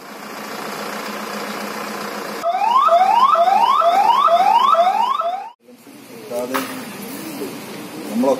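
A 108 ambulance siren wails in a rapid repeating sweep over an idling engine, loud and close for several seconds, then cuts off and gives way to engine noise and faint voices.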